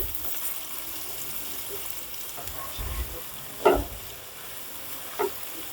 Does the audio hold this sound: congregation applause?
no